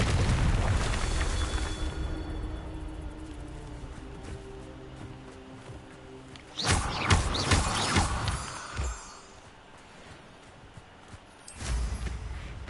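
Confringo fire spell explosions in Hogwarts Legacy erupt as loud booming bursts, one big blast in the middle with rumbling aftershock and another burst near the end, over a low continuous game ambience.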